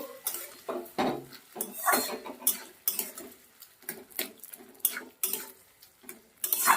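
Mashed cauliflower being stirred in a pan over medium gas, with rapid, irregular metallic scrapes and taps of a spoon against the pan, loud and close, continuing without a break and with no talk.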